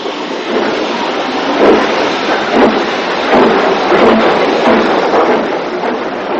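A 1950s UK steam train hauled by a North Eastern locomotive on the Barnard Castle route gives a loud, continuous rumbling roar with faint rhythmic pulsing throughout.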